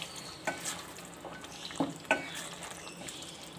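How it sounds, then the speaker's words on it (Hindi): Keema frying with yogurt in a pan makes a moderate, steady sizzle. Three or four sharp spoon scrapes and clinks mark the stirring at irregular intervals. "दही डाल के हम इसे भूनेंगे"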